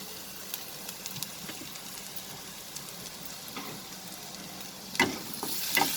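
Chopped ginger and garlic sauté with cumin seeds in a pan, a low steady sizzle with occasional stirring scrapes and a louder burst of frying near the end, no voices.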